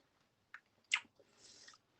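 Orange jelly candy slices with a tart, sweet, al dente bite are chewed close to the mic: a few soft, sticky bites and squishes, quiet and intermittent.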